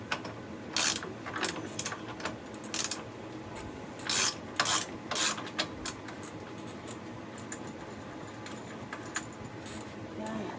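A hand ratchet works a nut loose on the front knuckle of a Jaguar F-PACE, giving quiet, uneven runs of clicking strokes close by in a garage.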